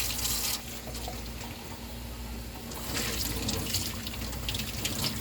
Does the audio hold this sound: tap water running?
yes